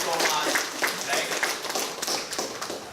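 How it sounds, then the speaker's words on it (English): A small audience at a public-speaking club meeting gives a brisk round of applause, with a scatter of sharp, close hand claps overlapping in quick succession. "can we have a good round of applause for her once again?"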